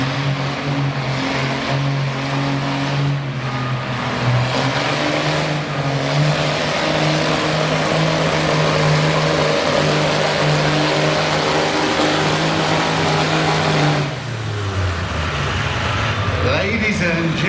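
A pulling tractor's engine roars and revs hard down the track at a winter tractor pull in Chatham, Virginia, loud and sustained with pitch shifts, dropping off near the end, under an announcer's voice.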